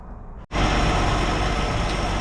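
A 1965 Ford Falcon engine, just fitted with a new water pump and thermostat, fires up abruptly after a brief crank and settles into a loud, steady idle that continues to the end.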